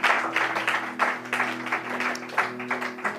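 Church congregation applauding in a steady run of claps with rhythmic swells, over a sustained organ-like tone, with no voices over it.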